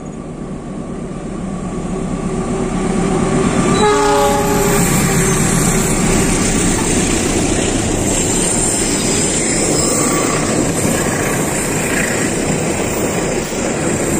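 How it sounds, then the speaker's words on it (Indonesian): A passenger train hauled by two locomotives rumbles past close by, rising into a loud steady roar of wheels on rails, with a brief horn blast early on. "Itu dia kereta api Harina yang ternyata double traksi ya."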